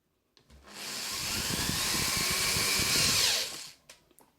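Power screwdriver driving screws into a 4.1 home theatre speaker during repair, a single whirring run of about three seconds that ramps up and cuts off, close and alone.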